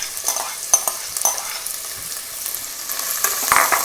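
Chopped onion sizzling in hot oil in a pan, a steady bright hiss with a few sharp stirring clinks and scrapes, close and moderately loud, with no talking.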